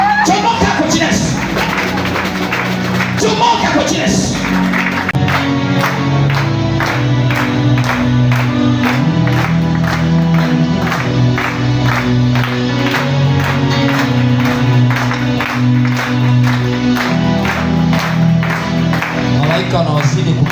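During a Swahili deliverance prayer service, a congregation claps in a steady, even rhythm, loud and sustained for many seconds beneath a preacher's voice and background music.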